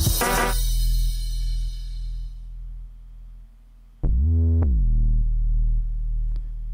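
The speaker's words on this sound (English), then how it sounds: "So I added this sub kind of bass in here." Deep sub bass from an MPC key group, a sustained low droning tone that fades, then returns with gliding pitch bends, heard alone and fairly loud.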